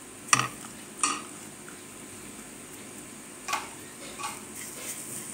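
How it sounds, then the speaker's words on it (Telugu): Grated fresh coconut roasting in a pan is stirred with a utensil, giving a few sharp, faint scraping clicks against the pan spaced out over quiet background. "పచ్చి కొబ్బరి తురుము వేయించుతున్నానండి"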